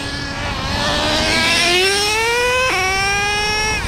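A Traxxas Revo RC truck, John Deere Edition, with a 2-speed transmission and a rich-running nitro engine, screams at high revs, climbing in pitch, dropping sharply as it shifts gears, then climbing again, loud and close.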